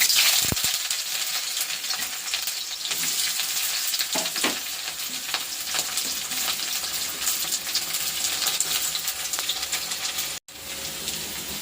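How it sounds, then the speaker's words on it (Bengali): Onion sizzling steadily in hot oil in a pan, a continuous dense crackle lasting throughout with occasional stirring clinks, close and fairly loud, with no talking. "পেঁয়াজটা ভাজা হয়ে গেছে"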